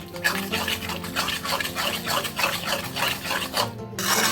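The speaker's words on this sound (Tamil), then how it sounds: "அந்த மாதிரி நல்லா வதக்கி விடுங்க உப்பை போட்டுட்டு" Drumstick thokku with salt is stirred and sautéed in a pan, giving a close, rhythmic scraping and rasping of the spatula with soft sizzling underneath, repeated strokes continuing throughout.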